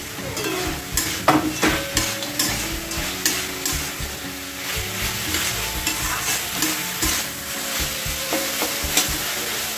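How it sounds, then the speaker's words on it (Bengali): Spinach curry with fried lentil dumplings (bori) frying in a pan over raised heat, with a steady close sizzle and repeated scraping strokes of a spoon stirring throughout, no voices. "একটু ভালো করে ভেজে নেব, তাহলে মশলার গন্ধটা থাকবে না।"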